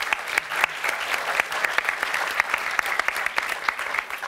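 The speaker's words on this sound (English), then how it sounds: "a round of applause for our panel, please" A room full of people at an animation conference claps steadily for a panel, a dense patter of hands with a few sharper claps standing out, holding at an even level throughout.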